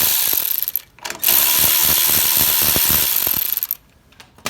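A quarter-inch drive ratchet with a deep 5/16 socket backs out carburetor studs on a Briggs and Stratton 18 hp engine, a loud, close, rapid run of clicks that starts and stops.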